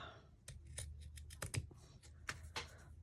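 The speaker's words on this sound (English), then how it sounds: "Let me grab my fabric scissors." Fabric scissors snip several times in quick, irregular succession, close and crisp against a quiet room while working on a vintage junk journal.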